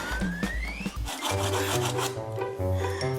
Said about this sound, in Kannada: ಅದನ್ನು ಒಂಚೂರು ಟೇಬಲ್ ಮೇಲೆ ಉಜ್ಜು.